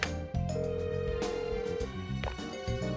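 Deadly Premonition 2 game phone ringing, a steady electronic tone pattern sounding continuously for a few seconds over game music, with no talk.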